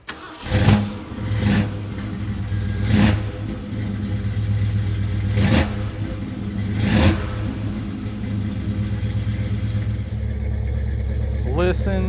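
A 1975 Ford Bronco's engine cranks and fires, then settles into a steady rumbling idle punctuated by several sharp throttle blips, close and loud, and a voice comes in briefly at the end.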